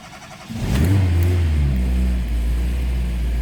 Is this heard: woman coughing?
no